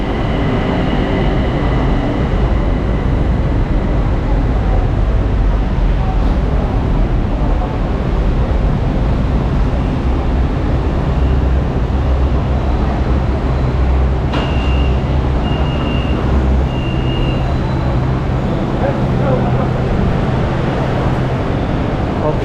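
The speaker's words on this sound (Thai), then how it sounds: "ขึ้นรถไฟขบวนนี้ไปเอกมัยกันครับ" Ride aboard a Bangkok BTS Skytrain heading to Ekkamai: continuous loud rolling rumble and motor drone inside the carriage, with brief high electronic chime-like tones midway and faint background voices.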